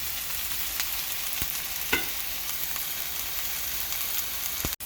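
Onion and green chili frying in a pan while being cooked for tofu scramble, a steady close sizzle with occasional light stirring clicks and a sharp knock near the end, no talking.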